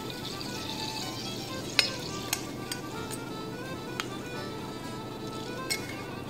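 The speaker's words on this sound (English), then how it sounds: "We've got the pan-fried loin of lamb with the crispy shallots and tatties and neeps with natural juices" Loin of lamb frying in a hot pan, a steady dense sizzle with occasional light metallic clinks of utensils against the pan, close and continuous with no talk.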